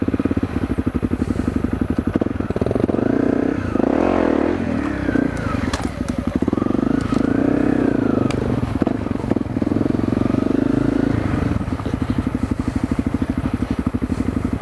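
A Honda CRF250L dual-sport motorcycle engine runs on a trail, idling with a steady, rattly chug and brief blips of revving, heard up close throughout.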